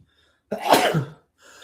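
A single loud, close sneeze with a sharp intake and burst, followed by a faint sound afterward.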